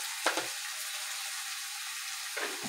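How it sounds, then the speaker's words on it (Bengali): Spice paste sizzles steadily in a pan while it is being cooked down, with two short louder bursts of stirring or scraping near the start and end. "মশলাটা প্রায় কষানো হয়ে এসেছে"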